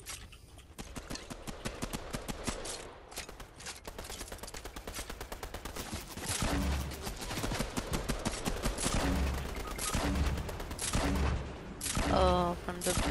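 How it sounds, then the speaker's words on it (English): Rapid gunfire rattles through a Fortnite match, with dense bursts of automatic shots and scattered single cracks that grow louder over about thirteen seconds, while a player's voice talks in between. "Someone shooting"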